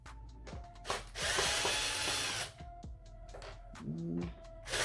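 A power driver whirs steadily for about a second and a half while backing Phillips screws out of a car's AC control unit during a dash screen install on a 2009–2012 Ram, with clicks and handling noises around it.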